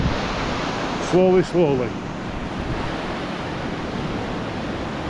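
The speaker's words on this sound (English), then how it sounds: "there's the raging river" Raging mountain river in Nepal on the Upper Dolpo trek, heard as a loud, constant broadband roar of rushing water, with a person speaking briefly over it.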